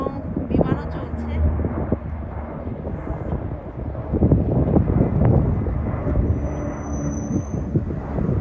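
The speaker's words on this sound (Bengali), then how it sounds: "বিমানও চলছে" Airplane passing overhead in open sky above a bare field near a roadside park and bus station, a steady broad engine roar mixed with gusty wind on the microphone and someone talking throughout.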